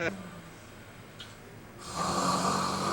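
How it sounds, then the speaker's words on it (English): A person snores with a rasping, nasal snort at the start, followed by quieter breathing and then a louder, sustained snoring rasp near the end, close by. "can you just shut up and stop snoring and go to sleep?"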